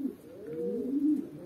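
An old-bird racing pigeon back in its loft after a derby race coos in a steady, low, rolling call that swells and fades over a second and a half, close by with no talk.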